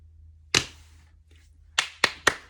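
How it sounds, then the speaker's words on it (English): One person claps hands indoors: a single sharp clap, a pause, then four quick claps in close succession, crisp and near against a quiet background. "I'm applauding y'all because y'all did that."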